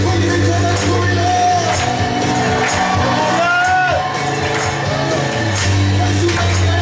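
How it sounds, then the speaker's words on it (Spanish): A church congregation at a Sunday service lets out loud joyful shouts and whoops over sustained music, a dense close crowd roar that keeps going throughout. "Un grito de júbilo."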